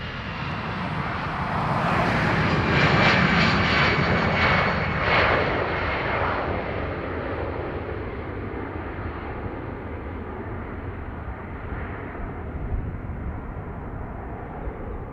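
Jet airliner passing overhead at Dublin Airport, a loud broad roar that swells early and then slowly fades into a long rumbling tail.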